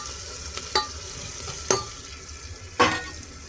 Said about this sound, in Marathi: सगळ्या भाज्या परतून घ्यायच्या